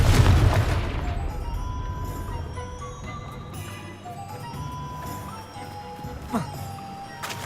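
In Hogwarts Legacy, a Confringo spell bursts with a heavy boom at the start, then decays into rumbling debris and scattered magical chimes and tones from the game world.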